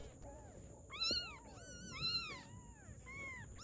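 A British Shorthair cat by a riverside meows in a series of three drawn-out, rising-and-falling calls, moderately close over a quiet outdoor background.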